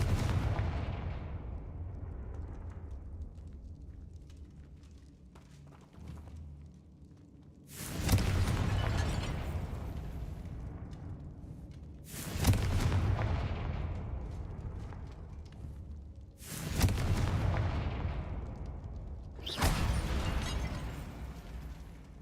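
Confringo blasting curses in a wizard video game go off as four heavy, booming explosions spaced a few seconds apart, each a sharp burst fading into a rumbling tail.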